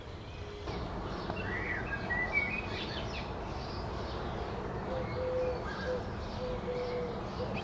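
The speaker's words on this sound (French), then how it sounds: "on est vraiment accompagné par les oiseaux" Birds call outdoors, with faint cooing and scattered chirps that sound somewhat distant over a steady background hum.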